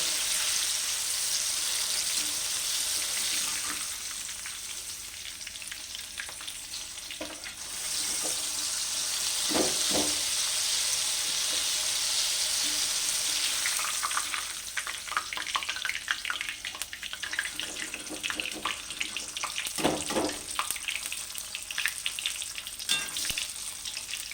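Vegetables frying in a pan for a vegetarian mixed dish, a continuous close sizzle that grows rougher and crackly partway through, with a few soft clinks of stirring.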